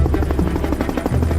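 Helicopter rotor thumping steadily at close range during the Abbottabad raid, a dense, rhythmic low chop with engine buzz filling the whole moment.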